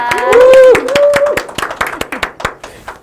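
Audience members clap in scattered, sharp individual claps to welcome actress Choi Jung-yoon, while voices speak and laugh over the start before the clapping trails off.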